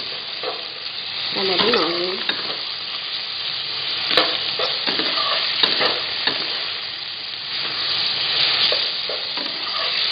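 Food frying in a pan with turmeric while being stirred, sizzling steadily from start to finish, with repeated scraping and clattering of the utensil against the pan and no speech.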